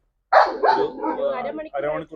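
A dog confronting a juvenile cobra gives a short burst of close barks and yelps lasting about two seconds.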